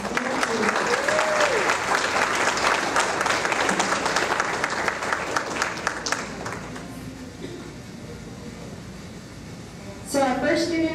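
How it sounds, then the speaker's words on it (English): An audience at a school board meeting applauds students with loud, dense clapping that fades after several seconds, followed by a brief voice speaking near the end. "Can we please give these students a big round of applause?"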